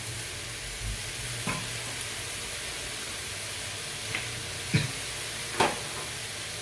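Cauliflower and pork stir-fry in a pan, giving a steady hissing sizzle with a few sharp scrapes of a spatula near the end.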